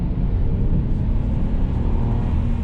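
A 2008 BMW 328xi Sport Package rumbles and revs as paddle shifts move it through the gears, a steady loud engine drone heard from inside the car without talk.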